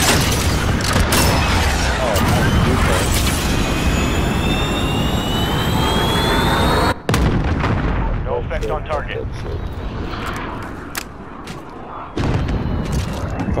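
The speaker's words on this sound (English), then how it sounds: "Got a VTOL on station, ready to deploy. VTOL inbound." VTOL aircraft killstreak in Call of Duty roaring in overhead with a loud jet whine and rumbling explosions, then cutting to quieter gunfire and booms with people talking over the action.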